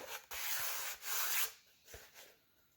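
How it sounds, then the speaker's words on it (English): Close, dry sanding strokes across the hull of a small 1/20 scale model unlimited hydroplane, several rhythmic rasping passes of sandpaper with brief pauses between them. "And yes, sand it after scraping it."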